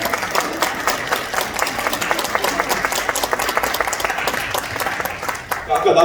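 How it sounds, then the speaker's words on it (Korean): An audience at a Sejong political candidacy announcement event applauds, with dense, sustained clapping close by and a voice speaking over it near the end. "큰 박수 좀 부탁드리겠습니다"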